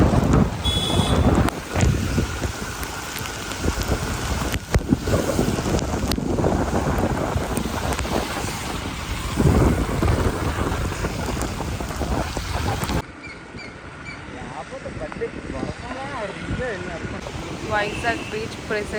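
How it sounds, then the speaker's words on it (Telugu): Wind and rain batter Vizag beach with gusty roaring wind noise and crashing surf, loud and continuous, then dropping to a softer wash of waves and rain near the end, with some talk mixed in. "వర్షం సౌండ్స్. మీరు ఇప్పుడు లైవ్గా చూడండి వీడియోలో."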